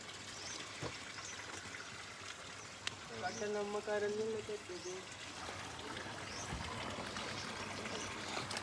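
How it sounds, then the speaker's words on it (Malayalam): Hot spring water flowing down from a mountain, a steady rushing wash, with a voice speaking briefly partway through. "ഈ മലയിൽ നിന്ന് വരുന്ന വെള്ളത്തിന്"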